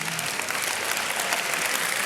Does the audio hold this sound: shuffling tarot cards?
no